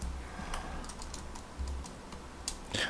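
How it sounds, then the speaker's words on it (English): Program code being typed on a Commodore 64 computer keyboard, a steady run of light, close key clicks with a few louder strokes near the end, no voices. "I'm typing these programs in just for the sake, for the sake of those who like to follow along"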